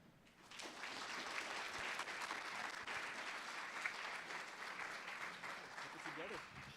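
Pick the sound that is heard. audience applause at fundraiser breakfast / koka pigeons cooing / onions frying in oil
audience applause at fundraiser breakfast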